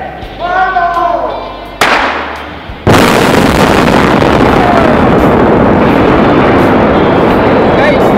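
A bridge taken down by explosive demolition: voices are heard first, then a sudden, massive blast gives way to a loud, sustained roaring rumble that fills the rest of the clip.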